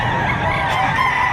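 Rooster crowing amid the steady din of a livestock auction market in Padre Garcia, Batangas, with a continuous crowd murmur and other fowl clucking underneath, all fairly close and loud.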